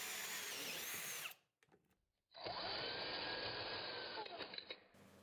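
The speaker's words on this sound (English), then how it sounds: "drill just until the pilot bit pokes through the back of the board" A power drill whines steadily at close range, stops briefly, then runs again in a long continuous bore through a wooden board with a high, sustained pitch.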